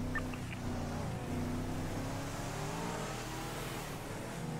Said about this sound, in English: He's grabbing the car. I'm driving off.